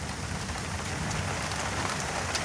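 Steady rain falls during a thunderstorm, a dense, continuous hiss of drops striking surfaces nearby, even and fairly loud throughout with no voices.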